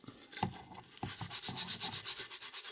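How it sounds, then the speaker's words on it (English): A brush scrubbing a rhinestone-covered tumbler with dish soap, starting with a few scattered scrapes and settling into rapid, rhythmic back-and-forth strokes up close. "So I have one of these brushes that I'm going to use to wash this. And then all I have is some Dawn dish soap in here. I'm going to scrub it up."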